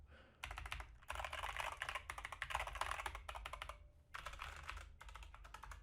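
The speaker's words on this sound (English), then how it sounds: "These ones sound a lot nicer." Steady bursts of typing on an Epomaker SK61 60% mechanical keyboard with Gateron Yellow switches. The clicky keystrokes are close and clear, run in quick rhythmic runs with short pauses, and no one speaks.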